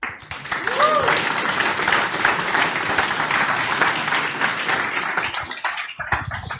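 Audience applause at a youth hackathon presentation, dense steady clapping that fills the room close and loud for the whole stretch, with some voices mixed into the crowd.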